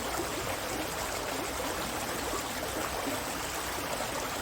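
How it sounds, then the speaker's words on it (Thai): Water seeps through and flows past a small farm dam built to hold irrigation water for vegetable growing, a steady moderately strong rushing trickle heard alone, at an even level throughout. "เขื่อนนี้มันก็จะมีน้ำที่มันซอกลอดมาได้"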